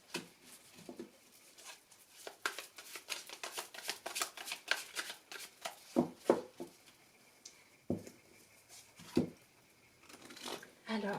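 Tarot cards shuffled and cut by hand, quick soft riffles and slaps in uneven bursts, close but quiet, with a few sharper taps as the deck is squared.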